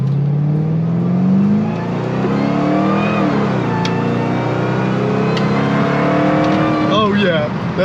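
Supercharged Ford Crown Victoria hit with a nitrous shot, its engine note rising steadily in pitch as it accelerates hard, loud and close from inside the car, with whine and rattles toward the end.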